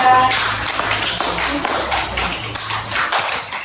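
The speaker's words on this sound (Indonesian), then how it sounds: "Beri tepuk tangan untuk kelompok bintang." Classroom applause for a student group, a steady broadband patter of many hands clapping close by, continuing evenly throughout with no talk over it.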